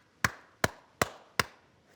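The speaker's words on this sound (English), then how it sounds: "those groups identify themselves by making specific patterns of clicks called codas" Sperm whale 5R3 coda of the EC2 clan: five slow, evenly spaced sharp clicks recorded underwater, each a crisp broadband knock with a short decay, with no voices.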